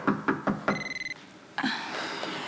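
A telephone rings with a bright electronic warble between a few knocking thumps, near and fairly quiet indoors, with no talk over it.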